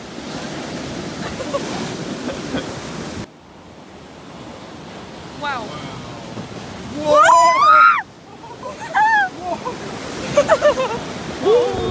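Ocean surf on the beach at Yangyang, a steady broad wash of waves with wind buffeting the microphone, broken by people talking and laughing over it.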